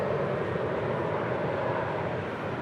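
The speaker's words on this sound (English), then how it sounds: "Yeah, rolling is Air Canada, Dreamliner." An Air Canada Dreamliner rolls for takeoff at Los Angeles International Airport, sending out a constant, dense engine roar that holds evenly loud throughout.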